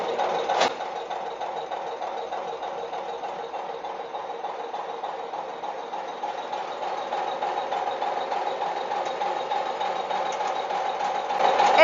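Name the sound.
diesel injection pump test bench running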